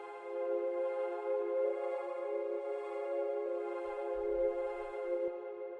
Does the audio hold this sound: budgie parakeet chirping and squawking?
no